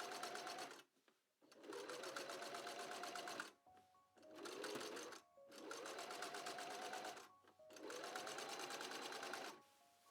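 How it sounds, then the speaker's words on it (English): A sewing machine top stitches along the hem of a pocket, running in long steady whirring bursts with brief stops between seams, close and loud with no talking. "I top stitched along the top hem of the pocket and then stitched it in place."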